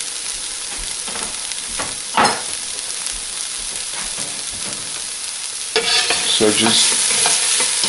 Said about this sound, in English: fry that briefly. Until the ginger and garlic are smelling nice